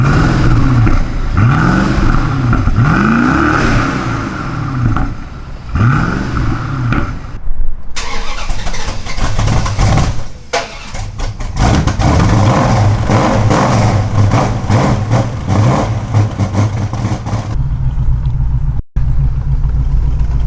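V8 car engines cold-start one after another up close, each catching with a loud rumble and then settling into a high, loping idle, with abrupt cuts between starts.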